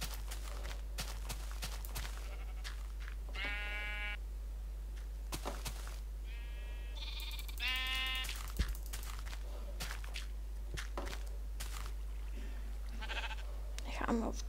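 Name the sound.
sheep bleating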